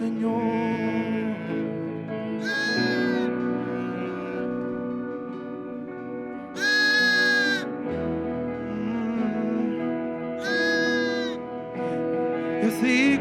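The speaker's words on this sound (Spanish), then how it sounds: "y así como escuchamos el balido, y así como vemos los pasos del Cordero" A lamb bleats repeatedly in long, wavering, voice-like cries, several separate calls rising and falling over a sustained droning musical tone.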